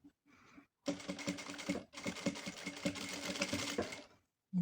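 A sewing machine stitches fringe onto a chair cover in two long, steady runs of rapid, close-up mechanical clatter, separated by a short pause, with a softer start before them.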